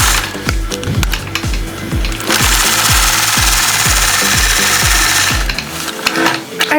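Domestic sewing machine stitching a curved line along a quilting ruler, loud rapid mechanical needle thumps in a steady fast rhythm that runs nearly the whole time and stops near the end.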